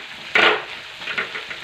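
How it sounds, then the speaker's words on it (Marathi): Cumin seeds with chillies frying in hot oil for a Maharashtrian dahi kadhi tempering, a sharp burst of sizzling followed by softer crackles and stirring, close and alone. "आता जिरं पण छान परतून झाले तेलामध्ये"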